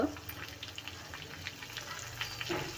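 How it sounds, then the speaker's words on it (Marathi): Chutney ingredients with asafoetida frying in a pan, a steady soft sizzle with faint stirring scrapes and small crackles throughout, fairly quiet and close. "आता याला छान परतून घेऊया आणि घालूया हिंग"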